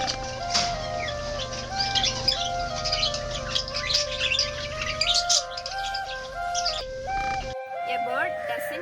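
Birds chirping and tweeting at feeding time, with a busy stream of bright calls over a steady tonal hum that drops out near the end.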